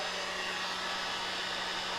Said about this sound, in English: you'll use your heat gun really to kind of move it around